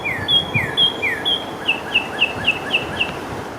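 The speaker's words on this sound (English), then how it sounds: "First up, the Carolina chickadee." A Carolina chickadee in a forest gives a quick series of about a dozen high, thin whistled chirps, the first few sliding downward and the later ones clipped. The calls are clear and close over faint background hiss.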